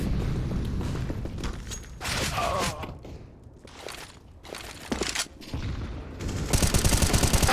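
Glock pistol gunfire in a Counter-Strike esports match cracks out in rapid bursts and single shots among footsteps and game effects, with a few brief quieter gaps.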